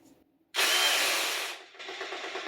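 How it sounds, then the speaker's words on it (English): A hammer drill bursts on after a moment of near silence: a loud, harsh, rapid buzzing grind for about a second, then a slightly quieter pulsing hammer rattle continues to the end. "Hammer drill."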